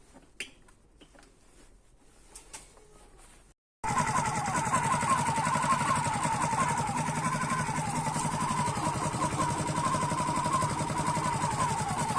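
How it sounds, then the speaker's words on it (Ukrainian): A Honda EU10i generator with a hard-starting fault is cranked over after a few quiet clicks and taps, then breaks into a steady, buzzing engine run that goes on to the end. "Пробую завести."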